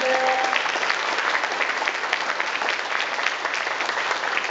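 Concert audience gives sustained, even applause after two orchestras finish four nature-themed songs. A faint held instrumental note lingers at the very start before dense clapping continues throughout.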